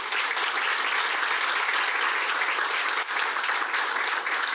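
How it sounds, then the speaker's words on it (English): Dense, steady audience applause at a press conference naming Chad Lunsford head coach of Georgia Southern, honoring his wife, Tippy Lunsford; the clapping is full and continuous throughout, with no voices over it. "let's give her a round of applause."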